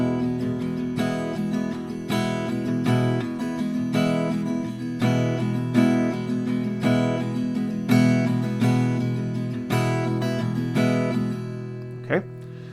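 Acoustic guitar strums the rhythm pattern for a song in steady, evenly spaced down and up strokes, loud and close with no talking, ending on a brief sliding note.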